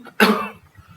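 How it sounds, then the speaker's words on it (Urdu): A single sharp, raspy cough from a man suffering an asthma attack, close and loud, trailing off quickly into quiet. "کافی دیر سے سن رہا ہوں آپ کھانس رہے ہیں"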